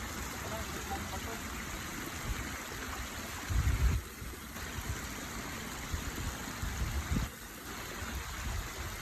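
The current flows below a dam in a continuous broad rush with low rumbling surges. Voices talk over it at times.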